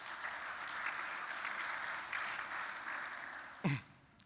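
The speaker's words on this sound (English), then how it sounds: "Scott, please give him a round of applause." Audience applause at a tech industry presentation on routing infrastructure, steady clapping for about three and a half seconds before a brief voice cuts in near the end.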